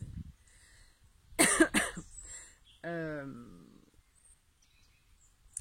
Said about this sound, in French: je me mets à tousser